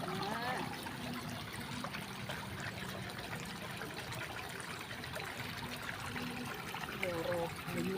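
Floodwater from a river after heavy rain spills over flooded fields, rushing and gurgling steadily at low level, with voices faintly underneath.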